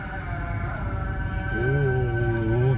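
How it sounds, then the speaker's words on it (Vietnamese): Islamic call to prayer from a mosque in Famagusta, Cyprus, a sustained melodic wavering voice heard from a distance, fairly faint over outdoor background hum. "Đây là tiếng kinh của nhà thờ"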